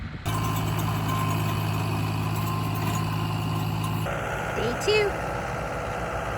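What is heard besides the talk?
tractor engine running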